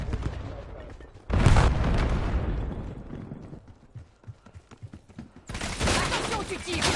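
Gunfire in the video game Black Ops 7, loud bursts of shooting and booms at the start and again near the end, with a quieter stretch of scattered shots between; a player speaks over the action.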